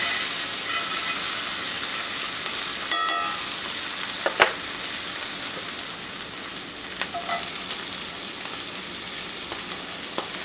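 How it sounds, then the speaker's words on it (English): Sausage browning in a hot pan gives a loud, steady, hissing sizzle throughout, close up, with a few light clinks and stirring scrapes partway through and no voices. "Now I brown the sausage a little just to bring out its flavor."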